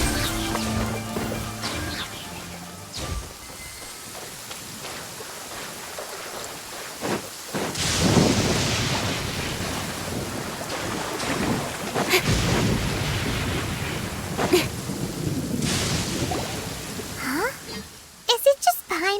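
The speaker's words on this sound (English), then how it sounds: "Thunder and lightning can be quite frightening, but don't worry." A thunderstorm in the Genshin Impact game brings steady heavy rain, with rolling thunder claps swelling loudly at several points and a sharp crack near the end, under background game music.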